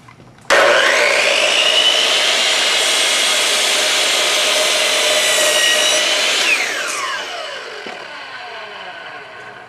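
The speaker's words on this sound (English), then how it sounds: "Tighten the miter gauge, and now we're going to make our cut, and it will go exactly along this line." A Hitachi C10FCH2 miter saw spins up suddenly and cuts through wood with a loud, sustained whine and rough grinding, then the blade winds down and fades over the last few seconds.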